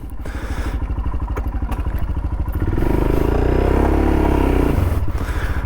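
Motorcycle engine idles with a rapid, pulsing putter up close, then revs up into a fuller, steady roar as the bike pulls away, with a few clunks and scrapes.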